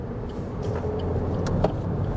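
A 2022 Suzuki Ignis takes a corner at about 40 mph, with steady road and engine rumble heard from inside the cabin and a brief knock midway.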